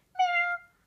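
A single short, clear meow, nearby and alone, voiced by a person imitating a cat during children's play with a Lego Friends hotel set.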